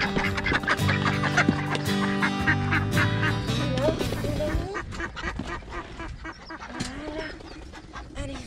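Ducks and ducklings quack in a loud, busy farmyard chorus, with chickens nearby; a voice calls to them briefly between the calls.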